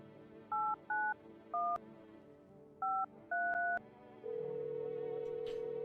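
Telephone keypad dialing inside the video game No, I'm Not a Human: a string of short DTMF beeps in uneven groups, a pause, more tones, then a steady held tone to the end, clear with no talking.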